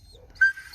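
An excited squeal from an almost 12-year-old dog reacting to a cat: one short, high, whistle-like cry in the middle, with a fainter trailing whine after it over near silence.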